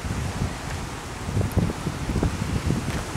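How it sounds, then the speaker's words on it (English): Wind gusts across a rocky coastal viewpoint at Vagator, buffeting the microphone with continuous low rumbling and uneven gusts, with no voices heard. "A bit windy, so you can expect some noise in the recordings, I guess."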